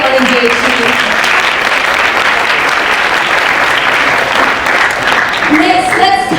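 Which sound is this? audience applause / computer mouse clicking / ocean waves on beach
audience applause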